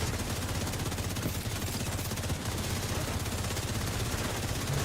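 The Saint Elmo exotic assault rifle in The Division 2 fires continuously in rapid automatic bursts, a dense, even rattle of shots that stays loud and unbroken throughout.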